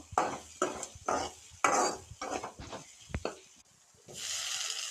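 Onions frying in a pan for a beetroot recipe, with bursts of stirring and scraping at close range, a soft sizzle between strokes and a steadier hiss toward the end.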